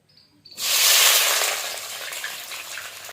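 Onions dropped into hot oil already holding dried chili, bay leaf and cumin for a Bihari-style meat dish burst into a loud, close sizzle that slowly settles into a steady hiss, with no talk.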